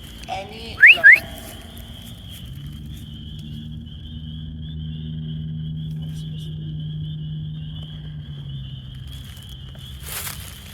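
During a Bigfoot search in Ohio woods, a person gives two quick, rising whistles close by to imitate a whistle heard earlier, followed by a long stretch of quiet outdoor ambience.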